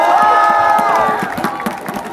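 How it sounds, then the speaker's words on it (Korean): A stadium crowd at a Nexen versus Samsung baseball game cheers and claps loudly, shouts and whoops over scattered applause, fading slightly toward the end. "박수 한번."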